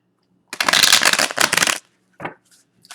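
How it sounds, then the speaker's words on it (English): Tarot cards riffled and shuffled by hand, one long burst of rapid flicking followed by two short taps as the deck settles, close and crisp with a quiet background. "I'm just going to shuffle a couple more times."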